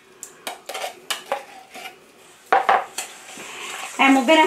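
A spoon scrapes and clanks rhythmically in a bowl as canned pumpkin is stirred into muffin batter, loud and close, with a short spoken phrase over the mixing.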